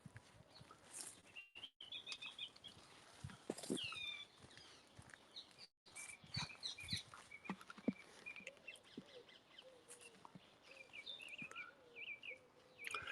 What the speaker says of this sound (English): the thrush is really shouting loudly